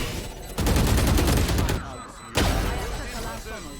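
Rapid automatic gunfire from the shooter Valorant rattles in two loud, sustained volleys separated by a brief lull. The shots are close and dense, with a faint voice underneath.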